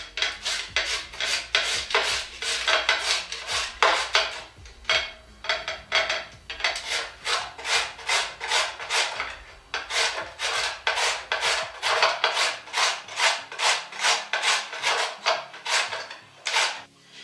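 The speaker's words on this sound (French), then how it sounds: "là on va commencer à râper les carottes" Two carrots being grated by hand for a salad, a loud, rhythmic rasping of quick repeated strokes against the grater that runs almost continuously with a brief pause, close up and with no talk.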